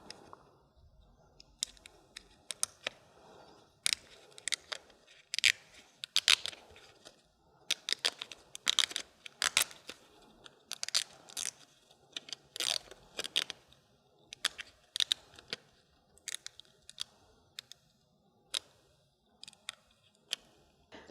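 Infusible ink transfer sheet has its backing peeled away by hand, giving a long run of sharp, crackly tearing and ticking bursts that stop and start, close up and quiet, with no talking.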